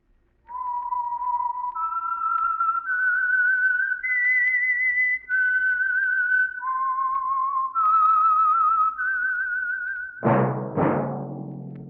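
A clear, melodic whistled theme tune for the 1949 radio program The Whistler glides through several sustained notes, loud and close, ending with a sudden bright orchestral stab.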